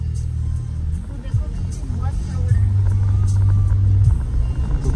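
A car engine rumbling as the vehicle pulls away and drives off on a road toward Kuldhara village near Jaisalmer, a steady low hum that swells slightly, with people talking over it.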